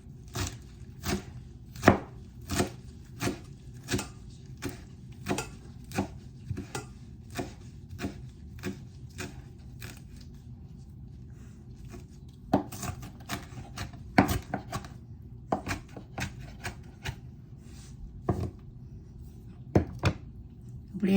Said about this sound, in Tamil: இப்படி எல்லா கீரையும் வெட்டி கொள்ளுவோம்.